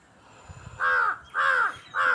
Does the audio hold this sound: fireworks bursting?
no